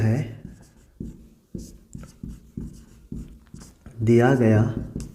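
Chalk or a pen writing during a class 10 trigonometry maths lesson gives a series of sharp, close tapping strokes in an uneven rhythm. A teacher talks over them throughout.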